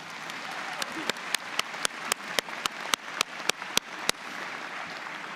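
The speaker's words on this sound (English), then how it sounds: "Can you join me in giving them all a round of applause?" Sparse audience applause at a university spring convocation: a soft spread of clapping with a dozen or so sharp, evenly spaced louder claps close by, fading out near the end.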